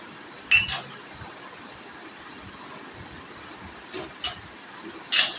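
Cups are wiped with a dry cloth in a kitchen, giving a few sharp, light clinks at intervals over a quiet background, with soft rubbing between them.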